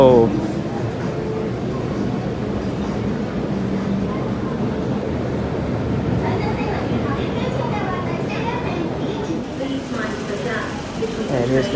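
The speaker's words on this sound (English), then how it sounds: "And here's the next train" An MTR train pulls into Tsim Sha Tsui station in Hong Kong, a steady rumbling roar of wheels and motors filling the platform, with a voice talking over it.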